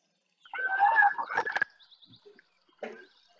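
A cartoon bird mocking a tiger in an animated fable: squawky, clucking calls up close, with a rising screech and a few sharp bursts, then a short pause and a brief final cackle.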